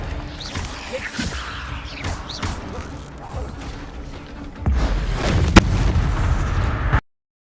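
Expelliarmus spell cast in Hogwarts Legacy, a loud magical burst with crackling, explosive impacts and a sharp snap partway through, heard amid dense game noise.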